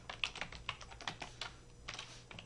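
Keys tapped on a computer keyboard in a quiet room, a quick irregular run of light clicks, close and alone with no talking.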